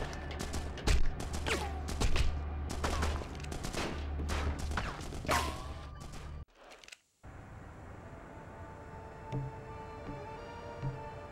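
Rapid gunfire bursts and single shots crack through a firefight in The Punisher video game on PS2, loud clustered volleys for several seconds, then a short drop to near silence and a quieter hum.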